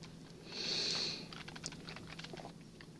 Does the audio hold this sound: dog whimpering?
no